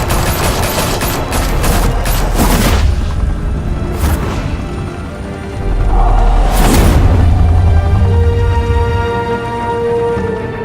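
Bursts of automatic gunfire in Batman: The Telltale Series, loud rapid volleys in two main clusters with booming impacts and a lingering rumble between them.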